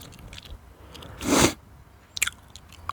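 Gum being chewed right at the microphone, with one loud wet crunching burst and a few smaller clicky chews after it, alone and without talk.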